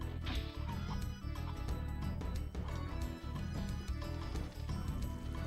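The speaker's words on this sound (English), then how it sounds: "Out of the way, chickens." Chickens in the Spyro the Dragon video game cluck steadily and close up over constant game background sound, a busy run of short clucks with no voices.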